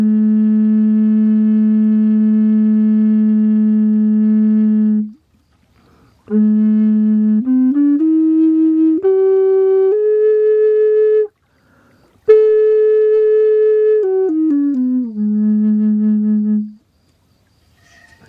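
Pure electronic pitch reference tone at A3, sustained clean and loud, then stepping through a sequence of rising and falling held notes with brief silent gaps, nothing else audible.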